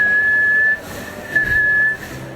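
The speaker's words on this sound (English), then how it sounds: "That's a whistle noise," A person whistles a steady, high, sustained note, pauses briefly, then whistles again, loud and close.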